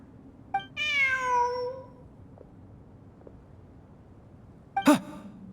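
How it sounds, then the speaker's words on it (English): A cat in the game Genshin Impact gives one drawn-out, clear meow near the start, followed by a brief second cry a few seconds later over quiet ambient background. "Look! A cat!"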